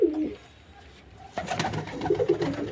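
A male white Jiriya pigeon gives a short low coo, followed after a quiet gap by nearby handling noise and a second burst of soft, throaty cooing.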